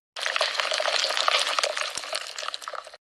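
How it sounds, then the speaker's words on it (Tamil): Bread being mixed with milk, a steady wet squelching and sloshing close by, continuous for about three seconds and then stopping abruptly. "இப்போ பிரெட்டையும் பாலையும் நல்லா மிக்ஸ் பண்ணணும்"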